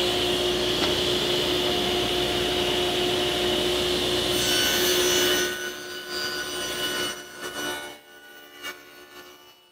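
A saw runs steadily through the two long sides of a wood piece, a loud continuous whine and rasp that drops away after about five seconds into quieter workshop noise and fading rumble.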